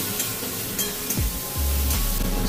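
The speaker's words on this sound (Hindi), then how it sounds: "इसको देखिए अच्छे से मैं फ्राई कर लूँगी" Potatoes fry in a pan with salt and turmeric, giving a steady close sizzle that swells louder in the last second, with a couple of soft utensil knocks.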